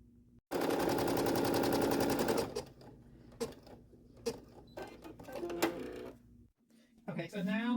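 An embroidery machine starts stitching a letter J, first with a fast, loud burst of rhythmic needle chatter, then with slower intermittent clicks and whirs. A voice speaks briefly near the end.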